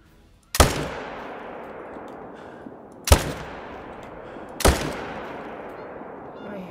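Three loud, booming rifle shots ring out in a whitetail and moose hunting video game, spaced a couple of seconds apart, each with a long echoing tail.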